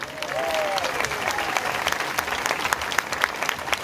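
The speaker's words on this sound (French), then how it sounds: "je vous demande de les applaudir" Theatre audience at a French chanson concert applauding loudly and steadily, with individual claps standing out near the front and a brief voice early on.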